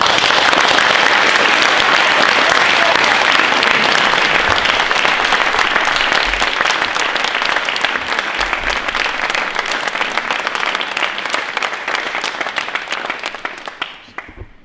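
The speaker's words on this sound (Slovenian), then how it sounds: "ki mu prosim namenimo velik aplavz" A hall audience gives a long, loud, dense round of applause for the founder of a Growing Books festival project, Dr. Janez Gabrielčič, holding steady for many seconds before tapering off at the end.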